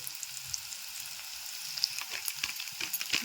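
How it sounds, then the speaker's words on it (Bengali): Onions crackle and sizzle in hot oil with turmeric and salt, the hiss constant, with stirring clicks and pops growing busier toward the end. "এই পেঁয়াজটাকে ভালো করে ভেজে নেব"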